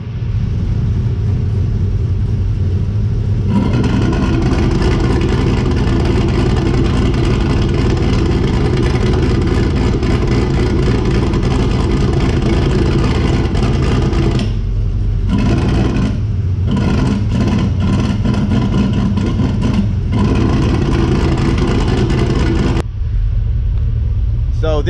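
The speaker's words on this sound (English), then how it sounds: "Listen to it when I open up this cutout manually." A turbocharged 6.0L V8 with a Summit Racing Stage 3 turbo cam in a Nissan 240SX idles loudly with the exhaust cutout opened, a deep, choppy, lumpy rumble that stays close and steady, with brief dips and a voice over it.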